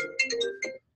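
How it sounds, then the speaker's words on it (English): An incoming-call ringtone sounds as a short melodic phrase of a few bright tonal notes, close and clear, cutting off abruptly into silence. "Have a phone call coming in."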